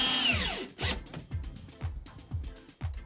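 A power driver sets the supplied screws into pre-drilled holes, fixing a shelf unit to a wardrobe side. It starts with a rising whine, then gives a steady run of rhythmic ratcheting pulses, loud and close.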